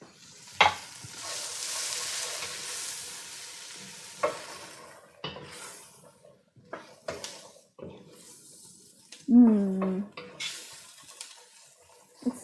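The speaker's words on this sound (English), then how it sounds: "So we'll let this saute down a little bit" Vegetables with celery root sauté quietly in a pan, a soft sizzle running under scattered scrapes and clinks of stirring utensils, with a brief ringing tone partway through.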